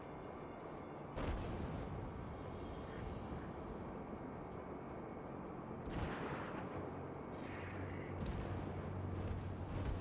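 Naval gunfire from the USS New York battleship in World of Warships, with heavy booming blasts at about 1, 6 and 8 seconds over a constant low rumble of battle ambience.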